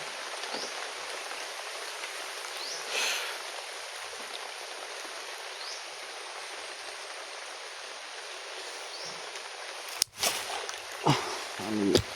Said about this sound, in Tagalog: At umuulan na, walang hinto yung ulan.